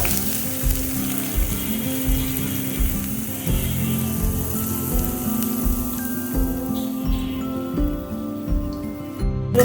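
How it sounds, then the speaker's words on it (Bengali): Chopped onion fries in hot oil, a loud, close, steady crackling sizzle with pulsing bursts and no talk. "আমি একটা কুচানো পেঁয়াজ দিয়ে দেব"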